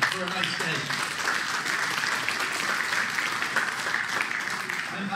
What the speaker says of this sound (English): give yourself a round of applause for a nice day